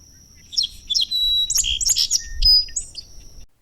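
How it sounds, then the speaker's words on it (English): Song sparrow song played back through a loudspeaker during a bird survey, a few bright chirps and trills in quick phrases over a low hum of background noise. "The song sparrow."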